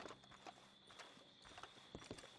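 A horse's hooves clip-clop at a walking pace in Red Dead Redemption 2, a steady rhythm of crisp, moderately close hoofbeats with a faint steady tone behind, with no talk.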